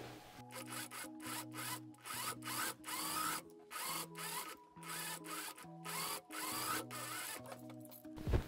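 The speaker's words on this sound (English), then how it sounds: "we can also go ahead and overlock the waistline of the facing separately" An overlocker stitches the waistline seam of a summer dress facing, running in short rhythmic bursts with brief stops between them, close and steady with no talking.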